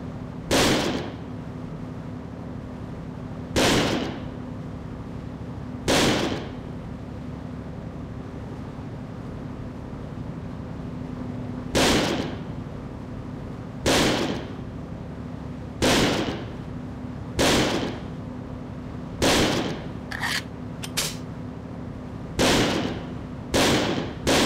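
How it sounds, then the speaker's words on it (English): Single gunshots fired one at a time on a shooting range in the video game Second Sight, about a dozen sharp cracks spaced a second or several apart over a steady hum, with no voices. "Here, take this ammo and fire it all into the range."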